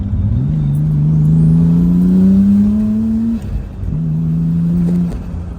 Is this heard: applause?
no